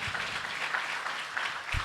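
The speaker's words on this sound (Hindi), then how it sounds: "एक बार तालियां बजाते रहें भाई।" Audience applause at a Hindi poetry book launch event, steady continuous clapping from a crowd filling the whole moment, with no talking over it.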